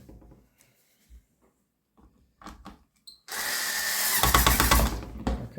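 A power drill backs out the last screw from an LG WT1101CW washing machine control panel: soft handling clicks and taps first, then a loud, close, sustained drill whir for about two seconds.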